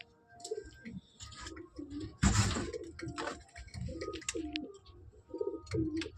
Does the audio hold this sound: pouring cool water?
no